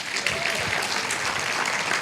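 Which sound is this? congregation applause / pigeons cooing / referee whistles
congregation applause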